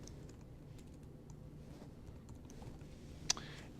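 Light key clicks from a computer keyboard as a library search term is typed, a soft, scattered series of taps at low level with one sharper click near the end, no talking.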